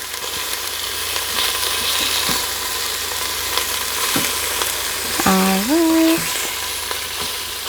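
Food browning in a frying pan gives a continuous close sizzle with occasional light stirring clicks, and near the end a brief rising tonal squeak sounds over the frying.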